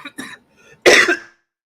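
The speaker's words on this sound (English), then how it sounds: "my bad, y'all. I had to cough." A short throat-clearing sound is followed by a single sharp, loud cough, close up, with nothing else around it.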